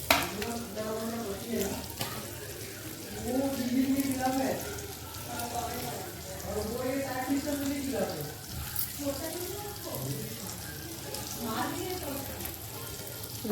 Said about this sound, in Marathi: आता इकडे आपलं पण व्यवस्थित शिजलेलं आहे त्याच्यात आपण मांदेली टाकून देऊया